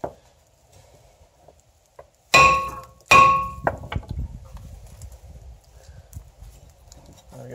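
Hammer blows knocking a front brake rotor loose from the hub on a VW with a 2.5L engine, two loud ringing metallic strikes followed by several lighter taps and clatter, close up, with no talking.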